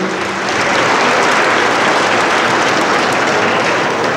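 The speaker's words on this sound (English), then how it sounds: "Let's give them a big round of applause" Loud, dense applause from a large audience at the New Mexico State Legislature's Indian Day, acknowledging students, a steady unbroken roar of clapping that holds at full strength from start to finish.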